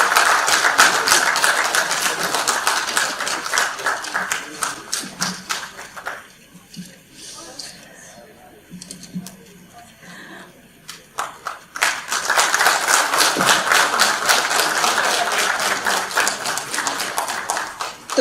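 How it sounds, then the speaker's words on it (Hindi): Audience at a hackathon claps loudly for children, a dense burst of applause that fades into quieter murmuring and then swells again into another strong round. "तालियों की गड़गड़ाहट उनके कानों में गूंजे कुछ दिनों तक"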